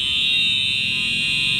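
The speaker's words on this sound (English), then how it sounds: "as loud as you hear this right now, it's worse in every single room" A building fire alarm in Arkansas, set off falsely, blares a loud, continuous piercing electronic tone that never lets up.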